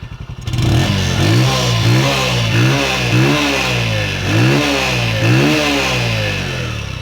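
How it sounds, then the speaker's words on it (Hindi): A Bajaj CT 100 motorcycle engine revs repeatedly through its exhaust, loud and close, with rising and falling throttle blips in a steady rhythm and no talking. "तो यो आवाज़ थी भाई इस मोटरसाइकिल की, अपने सैलेंसर की"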